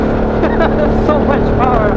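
A Harley-Davidson Sportster S cruiser's engine drones steadily while being ridden, a loud sustained tone that shifts slightly in pitch, with someone talking over it.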